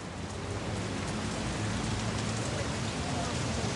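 Rain falls steadily on a London street pavement, a dense, even hiss that continues without pause for the whole stretch.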